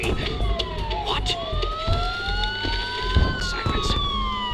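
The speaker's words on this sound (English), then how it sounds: "Sirens. The police." Wailing police sirens in the game Batman Arkham Asylum, several rising and falling tones overlapping over a busy rumbling background, with voices talking beneath.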